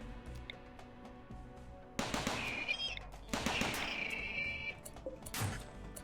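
Turrets fire in a RimWorld battle: faint game gunfire with bursts of rapid shots, two dense volleys in the middle and a final sharp burst, fairly quiet overall.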